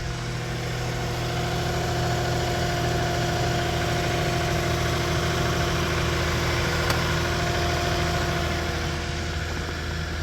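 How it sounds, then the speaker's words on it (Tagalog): An SUV engine idles steadily in the cold after a long struggle to start on a weak battery, a continuous low rumble with a constant hum that stays even and close throughout, with no talk over it. "Umandar na din ang SUV ko."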